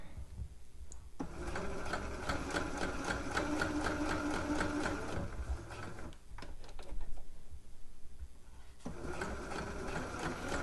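A domestic sewing machine top stitching along the front of a dress, with fast rhythmic needle chatter in several runs separated by short pauses, close and steady.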